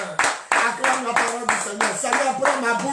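A church congregation claps in a steady rhythm as loud voices chant or sing along close by.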